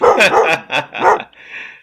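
A dog barks several times in quick succession, close and loud, the last sound trailing into a thin, high whine.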